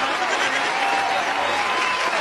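A short burst of dense clapping from a group at the close of a talk, loud and continuous, with some voices mixed in.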